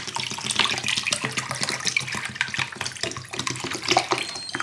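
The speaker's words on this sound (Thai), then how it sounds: "แล้วก็เทน้ำอุณหภูมิปกตินะคะ" Steady stream of room-temperature water pouring and splashing into a cooking pot for salmon and vegetable stock, continuous and fairly close, with no voices.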